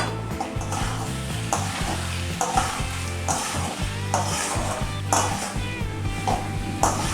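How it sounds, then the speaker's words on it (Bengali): Rice frying with spices in a pan, a continuous close sizzle broken by repeated scraping stirs and occasional metallic knocks against the pan. "চালগুলো আমি মশলার সাথে ভালো করে ভেজে নেব।"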